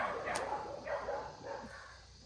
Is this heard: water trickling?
no